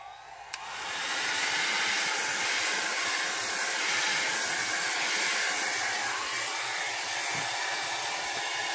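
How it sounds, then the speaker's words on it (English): A blow dryer switches on with a click and blows a steady, loud whooshing hum close up, drying pearl alcohol ink on an artwork. "So now I'm going to take my blow dryer and dry this."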